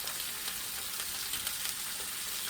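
Pork sausage sizzling in a hot cast iron skillet with grease: a steady, bright crackle and hiss that continues evenly throughout, with no talk.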